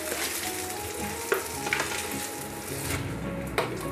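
Garlic butter mustard sauce with black pepper and paprika sizzles and bubbles in a pan, with occasional soft scrapes and clinks as it is stirred steadily.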